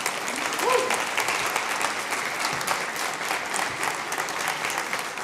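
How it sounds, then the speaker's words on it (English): Audience at a UK national event clapping steadily for several seconds, a dense even wash of applause from many hands, with a brief voice or cheer early on. "So give yourself a huge round of applause for being here today."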